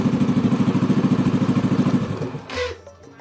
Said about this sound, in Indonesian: Matikan dulu motornya, matikan.